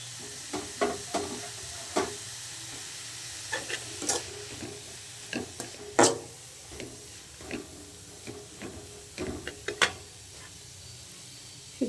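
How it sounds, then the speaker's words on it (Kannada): Chopped sambar greens tossed into a frying carrot palya crackle and sizzle in the pan, with scattered sharp stirring clicks and spatula scrapes over a low steady hiss, close and fairly quiet. "ಅದಕ್ಕೆ ಇವಾಗ ಕಟ್ ಮಾಡಿಟ್ಟಿರೋ ಸಾಂಬಾರು ಸೊಪ್ಪು ಹಾಕೋತಾ ಇದ್ದೀನಿ ನಾನು"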